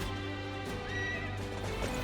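A horse neighs in Dynasty Warriors Origins during riding, a drawn-out whinny layered over game music and ambience, moderately loud, with faint hoofbeats underneath.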